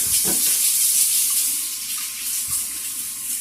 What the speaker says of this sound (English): So the first thing we're going to do is get some warm water